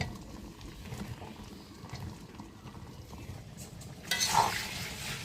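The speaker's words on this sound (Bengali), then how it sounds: "দিয়ে একটু নাড়াচাড়া করে যখন একটু ভাজা ভাজা হয়ে আসবে তারপরে আমি বড়িগুলো দিয়ে দিলাম" Faint scraping and stirring in a pan as mustard seeds, panch phoron and garlic fry for a Bangladeshi plum pickle, with a soft sizzle and a brief louder clatter near the end.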